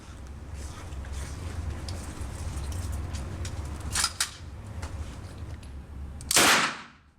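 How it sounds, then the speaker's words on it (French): A submachine gun and a Beretta pistol fire at a police shooting range, with scattered faint cracks over a steady rumble, then one loud, sharp nearby report near the end. "Aujourd'hui, ils ont tiré avec le pistolet mitrailleur, le 12 SD, le Beretta."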